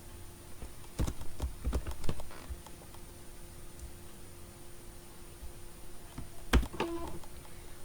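Scattered keystrokes on a computer keyboard as a phrase is typed, a few clustered clicks around one to two seconds and again near six and a half seconds, close and fairly quiet against faint room noise.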